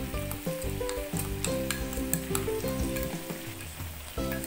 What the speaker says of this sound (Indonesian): Lalu aduk rata supaya saus dan juga sosisnya tercampur